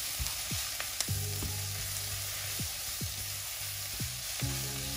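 Spiced vegetables with paprika, ginger, pepper, turmeric and salt are stirred in a frying pan, a soft steady sizzle punctuated by about eight sharp scrapes and taps of the utensil at a fairly even pace.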